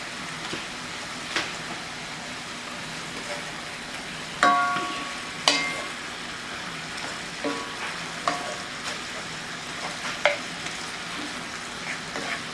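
Pork pieces sizzle in a pan, charring as they cook, under a soft, steady fry, with sharp scrapes and clanks of a utensil stirring them at irregular moments.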